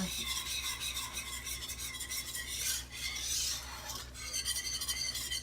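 Pasta being stirred into a cheese sauce for mac and cheese, a continuous close wet scraping and rubbing of a utensil against the pot, steady throughout with no talking.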